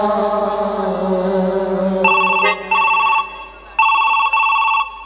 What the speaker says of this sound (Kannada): ಅವನಿಗೆ ಫೋನ್ ಹಚ್ತೀನಿ, ತಡೀರಿ.